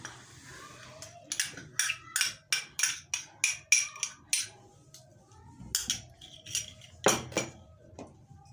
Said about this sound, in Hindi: इसके अंदर तकरीबन 3 खाने के चम्मच मैं शामिल करूँगा अदरक लहसुन का पेस्ट